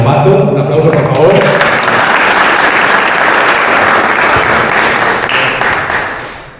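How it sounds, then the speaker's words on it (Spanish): Loud, sustained audience applause fills a conference hall in Toledo, continuous for several seconds before tapering off at the end, with a voice briefly heard early on. "Un aplauso, por favor."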